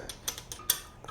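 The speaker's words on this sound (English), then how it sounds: "let me grab a wrench." Ratcheting wrench from a metric set being handled during an LS engine accessory bracket installation, giving a few quick faint clicks and ticks over about a second.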